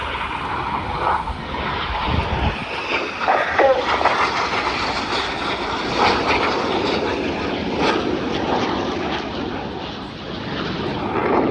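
Red Arrows jets roar past at an air show during a barrel-roll display, a loud, sustained broadband engine rush that swells and shifts steadily for the whole stretch, with no one talking.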